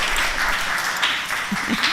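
A church congregation at a Sunday worship service breaks into brief, steady applause, a dense wash of many hands clapping at moderate volume with some faint voices underneath.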